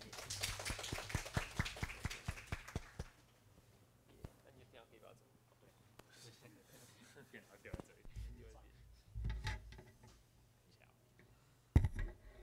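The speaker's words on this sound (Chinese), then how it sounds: "掌声谢谢。" A small audience claps after a talk, a scattered burst of handclaps for a few seconds that thins out, followed by quiet room noise and a few voices speaking.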